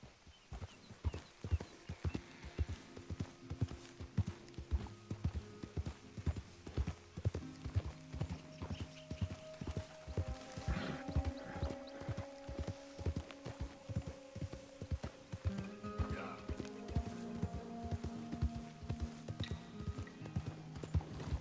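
Steady clip-clop of horse hooves trotting at an even pace in Red Dead Redemption 2, with a soft musical backdrop underneath throughout.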